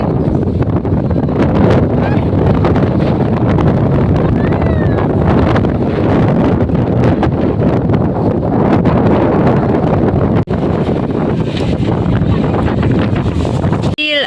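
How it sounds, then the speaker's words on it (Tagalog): Strong wind buffets the microphone in a constant, loud roar with gusty rumbling throughout at a cafe with a 360-degree view in Binangonan, Rizal, and faint voices occasionally surface beneath it. "Grabe ang hangin dito guys"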